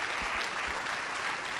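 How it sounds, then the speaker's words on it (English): Commencement audience clapping steadily at a math undergraduate graduation, a dense continuous wash of applause filling the hall with no voices over it. "I just want to echo the applause"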